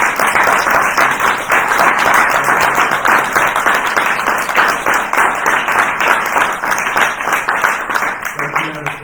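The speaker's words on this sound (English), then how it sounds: "Let's give our panelists one more round of applause." Sustained applause from a large audience honoring panelists at the close of a panel discussion on human trafficking, dense steady clapping filling the whole stretch, with some voices mixed in near the end.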